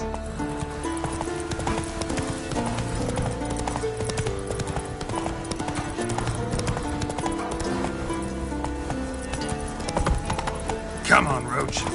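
Roach, a horse in The Witcher 3, gallops with rapid clip-clop hoofbeats under game music, and a whinny breaks through near the end while a person talks over it.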